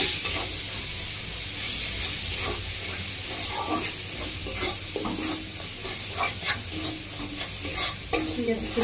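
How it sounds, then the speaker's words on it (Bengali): Spice masala with salt, stir-fried for a fish-head dal, makes a loud close sizzle with frequent scraping and clattering stirs of a spatula against the pan throughout. "মশলাটা একটু ভালো করে কষিয়ে নেব।"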